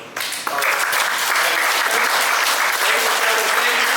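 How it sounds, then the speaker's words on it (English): A large audience at a climate action talk bursts into loud, sustained applause, dense clapping that starts abruptly and holds steady to the end. "one more round of applause for Mary"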